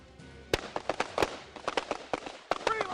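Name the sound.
carbine gunshots during tactical shooting drill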